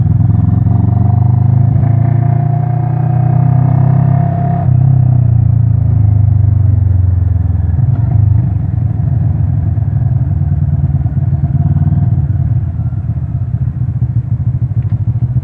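A motorcycle engine idles and putters up close while being parked, its low throb dropping and settling into an uneven chugging rhythm with no talking.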